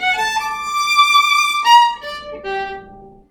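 Solo violin playing a short Suzuki Book 5 passage, sustained bowed notes that swell as the bow speeds up and then lead into the next note, played alone and close.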